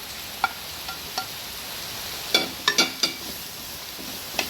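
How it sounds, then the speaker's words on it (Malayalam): Onion, capsicum, ginger and garlic sauté in a pan, with a soft background hiss under a few sharp spoon scrapes and taps that cluster in the middle, close and fairly quiet with no voices. "ഇതെല്ലാം കൂടെ നന്നായിട്ടൊന്ന് വഴറ്റിയെടുക്കാം"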